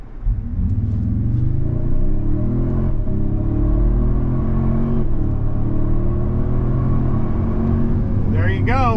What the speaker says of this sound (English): Love the way that iForce Max engine sounds